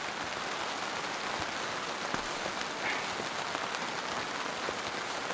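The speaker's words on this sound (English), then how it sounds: "This rain is just coming down." Heavy rain drums on an ultralight camping tent, making a dense, constant hiss and patter that stays loud and even from start to finish, with no voices.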